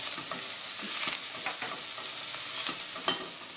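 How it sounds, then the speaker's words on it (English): Garlic cloves drop into a pan of sizzling onions and crispy bacon, a steady close fry hiss with soft stirring scrapes and small pops throughout, no voices. "Now what I'm going to add is my garlic cloves."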